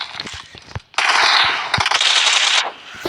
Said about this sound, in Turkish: Ya Rab adam silah sıkmış.